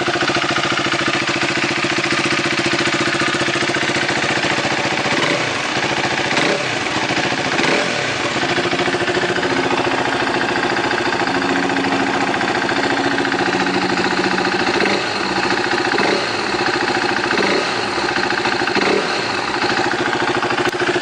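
A new 2015 KTM RC390 motorcycle engine idles loudly and steadily nearby, a continuous throbbing rumble with occasional slight surges, no talking.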